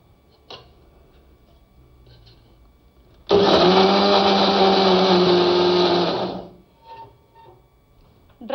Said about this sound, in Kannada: ಡ್ರೈ ಆಗಿನೇ ಪುಡಿ ಮಾಡ್ಕೋತಾ ಇದೀರಲ್ವಾ ಮಿಕ್ಸಿಗೆ?